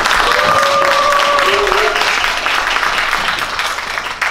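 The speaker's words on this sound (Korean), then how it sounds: "힘찬 박수로 모시겠습니다." Loud, dense applause from a concert audience welcoming a soprano at a Monday evening art-song recital, filling the whole stretch with a few brief whistle-like tones on top before easing slightly near the end.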